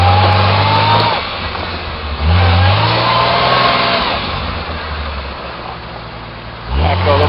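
A 1987 AMC Cherokee claws up a muddy, slick hill at Beasley Knob, its engine droning loudly and close, with revs surging at the start, again around two seconds and once more near the end.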